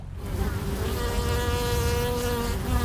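A loud, steady insect-like buzz drones continuously, close and unbroken, like a swarm of wasps or a whining motor.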